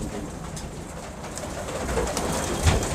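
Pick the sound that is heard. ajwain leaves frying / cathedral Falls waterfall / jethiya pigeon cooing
jethiya pigeon cooing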